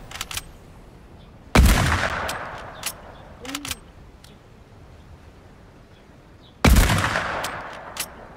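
Video-game gunfire rings out in a few sharp, loud, close bursts, a pair of big shots spaced several seconds apart with lighter cracks between them over a quiet background.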